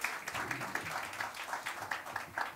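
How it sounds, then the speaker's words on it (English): Audience applause in a fan café setting after a performance, a soft, continuous patter of many hands at moderate distance, fairly faint throughout. "Room for applause."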